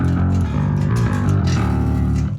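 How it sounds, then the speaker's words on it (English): Plugin-modelled distortion guitar for a home recording, playing thick sustained chords with steady loudness and no talking, cut off briefly at the end. "The distortion guitar. This is a plugin,"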